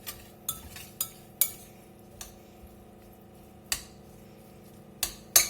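Utensils clink and scrape against a bowl while Mexican tuna salad is mixed, in sparse irregular taps and clacks with quiet gaps between, fairly close and soft.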